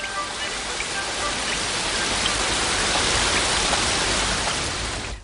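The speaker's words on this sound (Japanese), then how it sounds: "でもこの雨止まないかもしれませんよ。" Steady, dense rain falls without a break, a loud hiss that fills the whole stretch and stays even throughout.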